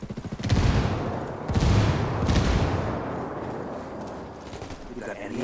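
Gunfire and explosive bursts in Ghost Recon Wildlands multiplayer, loud dense fusillade crackling and booming through the clip with shouted voices over the top.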